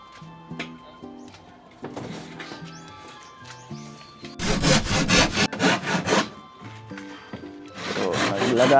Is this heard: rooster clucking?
no